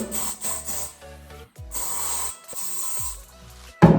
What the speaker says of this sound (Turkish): Spreyimizi sıkalım.